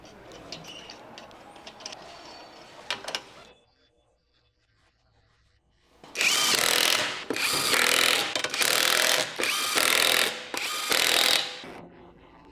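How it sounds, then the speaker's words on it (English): A 17mm socket on a ratchet tightens the wheel lug nuts of a 2006-2011 Honda Civic, with a quiet mechanical stretch, a short pause, then several loud, rapid ratcheting bursts close by. "Now it's time to reinstall the wheel and tighten the lug nuts. Use your 17mm socket."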